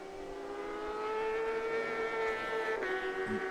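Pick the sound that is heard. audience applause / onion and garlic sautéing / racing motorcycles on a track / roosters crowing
racing motorcycles on a track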